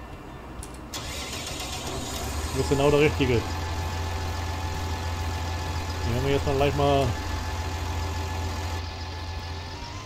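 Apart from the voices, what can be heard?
tractor engine starting and idling in video game Farming Simulator 19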